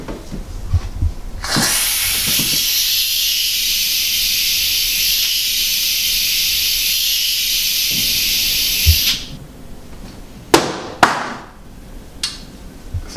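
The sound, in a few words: empty whipped cream can sputtering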